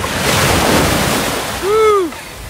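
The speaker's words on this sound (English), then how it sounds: "Need a couple of good waves to come in here." Ocean waves wash up on a white sand beach in the Seychelles with a broad rushing surf and wind noise on the microphone, followed by a brief whooping voice cry near the end.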